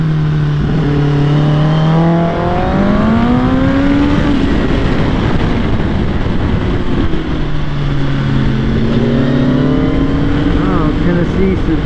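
A powerful Ford GT supercar engine rumbles and revs loudly nearby, pitch rising and falling as it accelerates, with voices talking over the roar.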